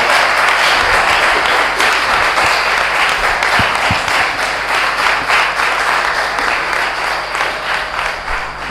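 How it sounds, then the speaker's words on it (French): Loud, sustained applause from a church congregation at a novena for the Immaculate Conception, many hands clapping densely and evenly in a reverberant hall, fading slightly toward the end. "On applaudit encore plus fort."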